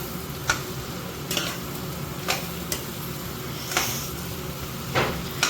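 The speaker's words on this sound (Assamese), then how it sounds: "মাছৰুমৰ যিটো নিজৰ পানী এটা ওলাই যে সেইটো ওলোৱালৈকে অলপ ভাজি ল'ম" Sliced mushrooms frying in a hot pan, a steady soft sizzle with occasional sharp ticks and scrapes of a stirring utensil against the pan.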